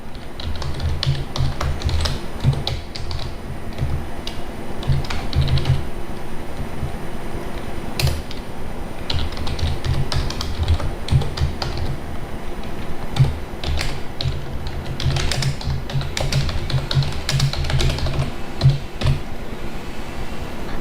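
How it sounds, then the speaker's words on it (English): Someone types code on a computer keyboard in Notepad: irregular bursts of fast, close key clicks with short pauses between runs, over a faint steady background hum and with no talking. "And here we can type our code."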